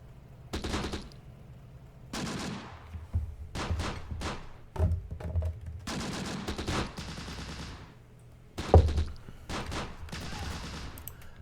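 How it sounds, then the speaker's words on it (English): Bursts of gunfire in Close Combat: The Bloody First, Italian Crusaders campaign, several separate volleys of rifle and machine-gun fire with thumping impacts, loud and fairly close, spaced across the scene with no talking. "They just shot one of our prisoners right there."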